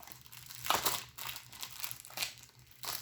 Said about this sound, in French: Juste en train de détruire le paquet